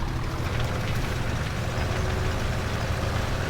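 A Claas Axion 940 tractor, roughly 308 horsepower, idles in Farming Simulator 17 with a constant low diesel rumble and a steady hiss on top, unchanging and with no talk.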